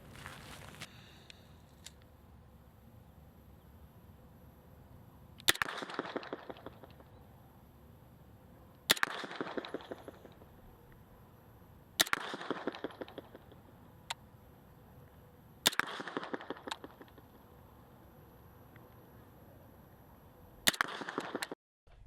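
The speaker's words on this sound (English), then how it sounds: "you can really stretch the legs of your submachine gun and get combat effective hits at much greater distances" Submachine gun fired at an outdoor range from the 25-yard line: five sharp, loud reports spaced a few seconds apart, each with a short decaying tail, over quiet background.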